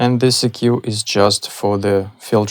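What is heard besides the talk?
None of the usual background noises is heard.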